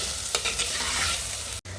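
Finely chopped onions fry in oil in a pan, a steady near sizzle broken by a couple of stirring scrapes, cutting out briefly before the hiss resumes.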